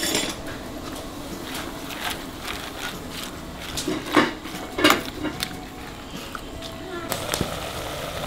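Metal pots and pans clank and clatter on a stove in irregular knocks, a few sharper clangs standing out, with people talking in the background.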